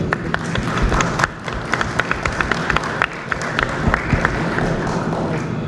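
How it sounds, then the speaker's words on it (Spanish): A crowd at a book fair presentation claps steadily throughout, dense applause with scattered sharper claps standing out, fairly close and loud. "del escritor Francisco Agenbeck, para quien pedimos un aplauso, por favor"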